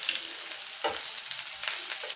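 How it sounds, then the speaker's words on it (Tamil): Chopped onions sauté in hot oil in a pan for masala Maggi, giving a steady, close crackling sizzle with a brief stirring scrape partway through and no voices. "எண்ணெய் சூடாயிடுச்சு, நம்ம ஆனியன் போட்டுக்கலாம். இப்போ நம்ம வதக்கிக்கலாம்."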